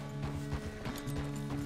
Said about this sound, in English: The horse can feel your fear.